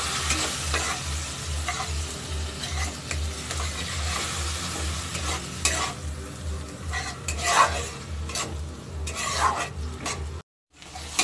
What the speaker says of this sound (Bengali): ভালোভাবে মশলাটাকে কষে নিতে হবে যাতে আদার কাঁচা গন্ধটা চলে যায়।